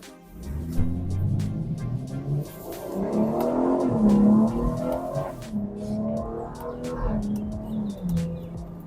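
A BMW 440i pulls hard under full acceleration, its engine note climbing and shifting in pitch through the gears, loud and continuous with a throaty roar peaking midway before easing off.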